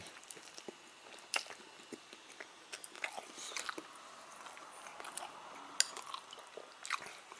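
Korean instant noodles in apple juice soup being chewed, with soft close-up wet bites and munching, fairly quiet and with no talk.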